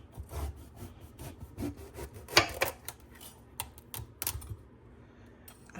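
A knife cuts into a winter squash stored for about six months, giving close, rough rubbing and sawing scrapes through the tough rind with a few sharper cracks, moderately quiet and without speech.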